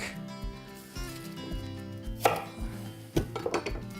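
A knife chops onion on a cutting board for a fall recipe, giving a few sharp, close knocks spaced irregularly over soft background noise.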